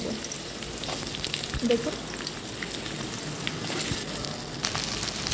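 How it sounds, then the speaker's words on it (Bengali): Potatoes and okra sizzle in hot mustard oil in a pan, a steady close crackling hiss that runs throughout, with a brief spoken word over it. "দিয়ে এবার কেটে রাখা আলু আর ঢেঁড়স কেটে রেখেছিলাম, ওগুলো আমি এর সঙ্গে ভেজে নেব।"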